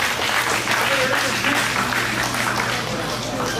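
Audience applause at a graduation party, a steady dense wash of clapping lasting the whole moment, with a continuous low hum and some talk mixed underneath.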